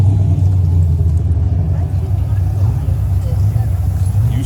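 A Dodge Challenger Hellcat Redeye running on E85 fuel idles with a deep, steady, loud rumble throughout, heard up close at a car show while voices talk nearby.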